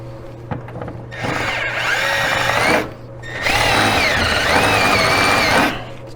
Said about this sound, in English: Step drill does a nice job of opening up that plastic so we can fit the U-bolt in there